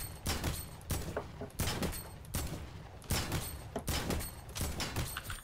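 Rapid bursts of video-game gunfire from flick shots in an online shooter, loud repeated volleys in quick clusters with short gaps, heard alone without talk.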